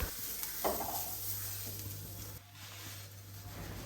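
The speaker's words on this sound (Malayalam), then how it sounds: "അരമുറി തേങ്ങ ചേർത്ത് കൊടുക്കുക. എന്നിട്ട് ഇതിൻ്റെ പച്ചമണം പോകുന്നത് വരെ ഒന്നും കൂടി വറുത്ത് കൊടുക്കുക." Grated coconut is stirred and roasted in a hot pan, giving a continuous soft sizzle with scraping, rustling stirring strokes near and steady throughout, no talk.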